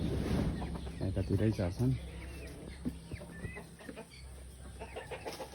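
Chickens cluck close by in a rural yard near a vegetable plot, a run of short rhythmic clucks over steady background noise, while a person talks over them.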